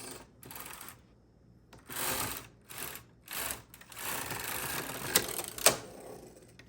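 A knitting machine works slowly through the first row of a sock, with several short bursts of mechanical clicking and rasping broken by brief pauses, then a longer run ending in two sharp clacks.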